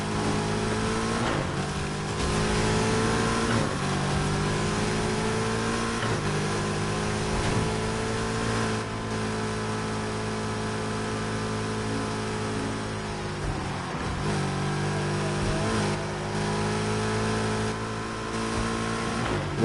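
Ferrari F40 tuned past 1,000 horsepower racing a Skyline fitted with a 900-horsepower Porsche engine in NFS Heat: a loud, sustained engine roar with steady revving and shifting pitch throughout, close and continuous, with no talk.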